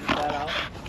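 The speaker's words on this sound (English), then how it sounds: "Say hi to the puppies." Puppies making a brief, close whimpering pant lasting about a second, with a voice faintly mixed in.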